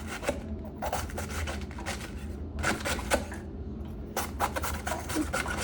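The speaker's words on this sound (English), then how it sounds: "So I will just start trimming this off." A knife trims a cabbage with close, repeated rasping cuts and scrapes in an uneven rhythm.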